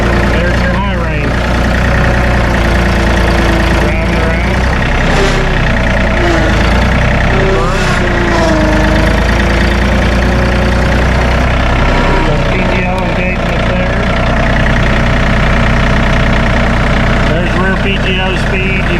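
A 2019 John Deere 3025E compact tractor with synchronized hydrostatic drive running steadily, a continuous low engine drone throughout while someone talks over it nearby.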